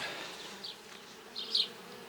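Honeybees hum softly around the top box of an open hive whose frames are full of honey, a steady low drone with a couple of brief louder swells as bees fly close.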